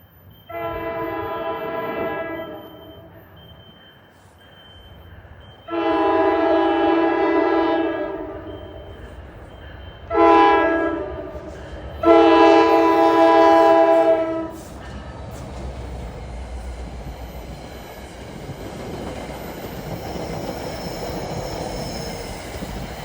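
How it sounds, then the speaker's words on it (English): An F40PH-3C diesel locomotive, formerly a New Jersey Transit F40PH-2, heads westbound and sounds its horn in four loud blasts: two long, one short, one long. Rumbling wheels and engine noise follow as the train rolls past. "F40 PH-3C 4914 is a former New Jersey Transit F40 PH-2. Westbound at 1225."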